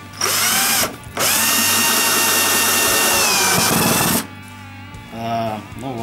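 A cordless screwdriver drives a screw with a cheap bit, a loud steady motor whine in two bursts with a short pause between, then quieter scraping as the bit slips.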